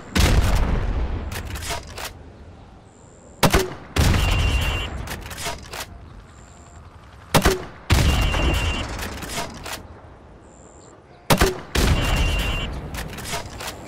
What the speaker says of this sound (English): now pop the grenade into windows